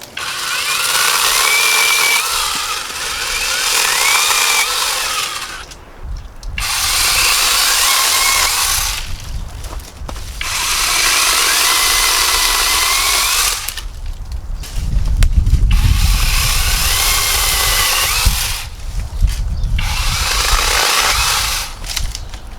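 Cordless battery pole saw cutting branches outdoors, its high motor whine running in long bursts of several seconds separated by brief pauses, loud and close with no talking.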